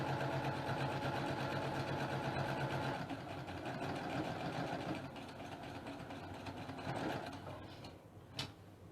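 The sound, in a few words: sewing machine sewing half square triangles along drawn line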